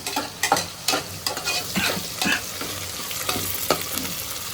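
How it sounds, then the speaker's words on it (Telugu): Spices fry in a pressure cooker for chicken biryani, a close, continuous sizzle broken by repeated scraping and clinking strokes of a stirring spoon. "ఇవన్నీ ఇదైతే చక్కగా వేగిపోయింది"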